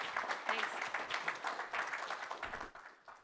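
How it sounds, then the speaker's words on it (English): A conference breakout-session audience applauding the presenters, brisk clapping from a modest crowd that stays steady for a few seconds and then tapers off quickly, with some voices mixed in. "Can we have one last round of applause for Huma and Caroline?"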